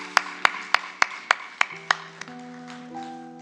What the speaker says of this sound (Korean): 우리 영광의 박수로 함께 화답하시겠어요?